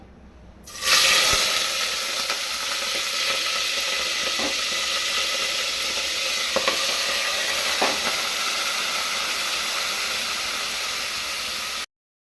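Meat hits hot oil in a home kitchen pan with a sudden loud sizzle, then settles into a steady, bright frying hiss that runs for several seconds before stopping abruptly, with a few faint clinks along the way.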